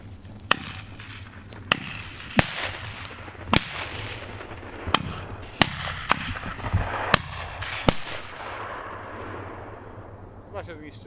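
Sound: fireworks from a banger launcher on a frozen lake

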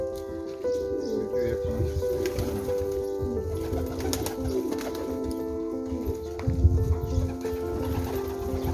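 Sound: Bursa pigeons

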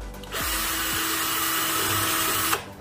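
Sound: power drill countersinking screw hole in mirror door frame

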